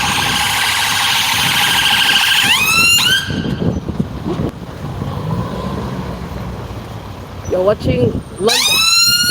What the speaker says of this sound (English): One sec, police car.